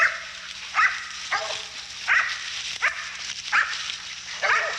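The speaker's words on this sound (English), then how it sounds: "Them dogs know he's hurt. They all over him." A pack of hunting dogs bays and barks repeatedly at a wounded bull, loud and close, in steady rhythmic bursts over a low background hum.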